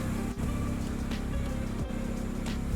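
A K-swapped Honda Integra project car idles and rumbles steadily close by, its low engine drone holding fairly level with only slight rises under light throttle.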